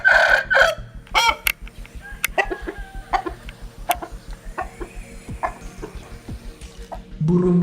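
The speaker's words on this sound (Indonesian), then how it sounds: "Ayam biasanya berkokok sebelum pagi hari atau sebelum fajar tiba." A rooster crows loudly near the start, followed by scattered clucks and short calls from chickens over a steady ticking background, with no talking.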